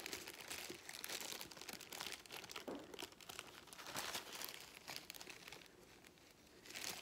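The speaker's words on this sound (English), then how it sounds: "I'm going to open it up. And this comes in a bag." A plastic bag from a plant grow kit being opened and handled, giving steady close crinkling and crumpling with a few tearing bursts throughout, and no talk.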